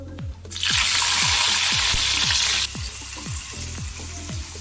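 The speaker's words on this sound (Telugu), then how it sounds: "ఇప్పుడు మనం ఆనియన్స్ వేసుకుందాము." Onions dropped into hot oil for a curry erupt in a loud, close sizzle that holds for about two seconds and then settles to a quieter steady frying hiss, with regular rhythmic knocks running throughout.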